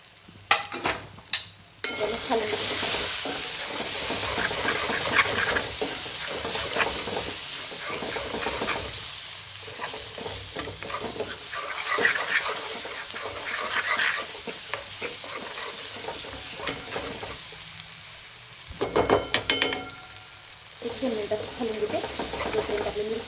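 Chili powder, coriander powder, turmeric and onion-garlic masala fry in a pan for tomato varan, with a steady close sizzle broken by repeated scraping stirs and brief pauses.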